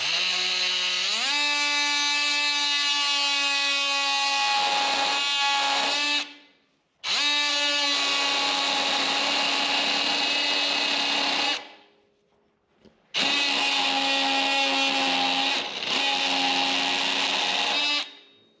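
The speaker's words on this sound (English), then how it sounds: "I do a whole lot of things with this multi-tool. So we're going to use this." An oscillating multi-tool cuts craftsman wood molding for a tiny house, loud close buzzing in three long bursts separated by short pauses, the pitch settling as the blade bites into the wood.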